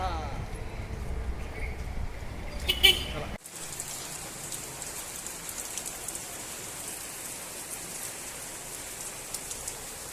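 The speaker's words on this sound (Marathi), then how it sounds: "पाऊस पडत आहे" Rain falls steadily outside a home during a Ganesh idol installation in Miraj. A denser, louder burst early on gives way to a softer, even patter, with voices under the rain.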